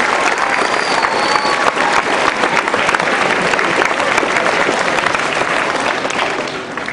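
A large audience claps steadily for main instructor John Kuhn at an energy efficiency award ceremony, a dense, loud, sustained wash of many hands lasting the whole stretch and easing slightly at the end.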